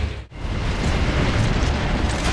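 Heavy mortar explosions in the game Gears of War: Judgment, a dense continuous roaring barrage that drops out briefly then surges back at full loudness and keeps rumbling.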